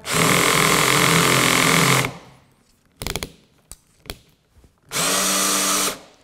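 A cordless drill set to clutch setting 12 drives and over-tightens a screw: a loud two-second whirring burst, then scattered clicks and rattles of the slipping screw, then another loud whirring burst close by.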